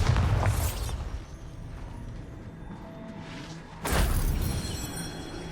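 Bombarda blasting spell in Hogwarts Legacy, two deep booming explosions with rumbling decay, one at the start and another a few seconds later, with quieter ambient game sound between.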